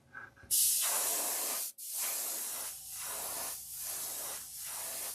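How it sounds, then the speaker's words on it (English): A close airbrush sprays iridescent fuchsia paint onto a jerkbait fishing lure, hissing out in a long burst, cutting off, then returning in several shorter, very light sprays with a steady rhythm of passes. "And we're spraying the iridescent fuchsia."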